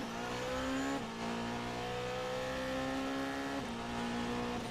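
A race car accelerates hard on a circuit, its engine note climbing steadily through the gears with a distinct shift near the start and another near the end, loud and continuous.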